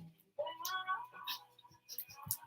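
A house cat meows once near the microphone with a drawn-out tonal call, followed by softer indoor rustling and faint background sounds.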